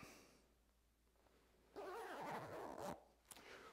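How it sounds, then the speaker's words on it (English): A zipper being drawn up the front of a vest while suiting up, a quiet rasping pull lasting about a second with a short extra tug after it, close and alone with no talk. "We're going to zip up the front."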